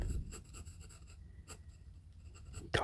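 Pencil sketching Angemon from Digimon on paper: close, intimate scratching and rhythmic back-and-forth strokes with soft pauses, ending in a firmer scrape.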